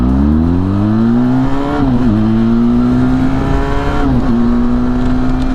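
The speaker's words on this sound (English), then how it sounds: "I'm going to do my best to get this bike from 0 to 60 as quickly as possible" A Benelli TRK 502 adventure motorcycle accelerating hard from a standstill, its engine note climbing loudly through two quick gear changes, each marked by a brief dip before the pitch rises again.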